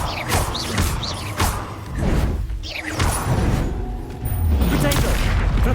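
Spell casting in Hogwarts Legacy: repeated whooshing blasts, booms and crashing impacts in quick succession, with a voice shouting spell incantations between the effects.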